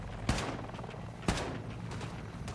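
Two sharp single gunshots from a single-shot weapon in the shooter game Wolfenstein 2, spaced about a second apart, loud and close over a steady backdrop of game noise.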